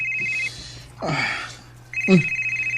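A telephone rings in two bursts of a shrill electronic tone, separated by short gaps filled with brief rustles and a voice, close and clear indoors.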